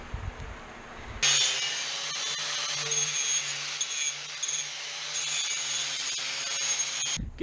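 A 5.5-inch Bosch angle grinder spins up suddenly and grinds metal while building a canoe rack, a loud continuous high whine with a rough grinding texture that runs for several seconds before cutting off.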